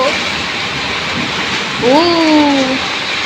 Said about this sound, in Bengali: কিরকম বৃষ্টি দেখো